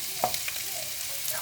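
Garlic frying until golden brown gives a quiet, even sizzle with a couple of small pops and faint scrapes from stirring.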